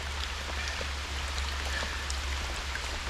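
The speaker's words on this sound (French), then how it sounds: "C'est pas très grave, il pleut." Steady rain falls outdoors beside a river, a dense, even hiss with scattered drop patters and a low rumble underneath, continuous throughout.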